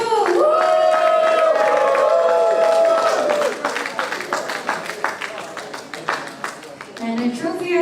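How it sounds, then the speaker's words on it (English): A crowd applauds and cheers at a medal and trophy ceremony after a three-hour endurance race, loud and continuous at first, then fading into scattered claps and voices as someone talks over a microphone. "let's give a round of applause again to ONC Angel Race"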